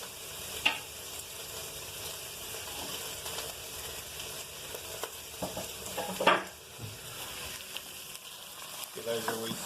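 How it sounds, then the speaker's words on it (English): Onions and sausages fry in a pan, giving a soft, steady sizzle with occasional scrapes and knocks of stirring, including a louder clatter midway and another near the end. "Give those a wee stir in."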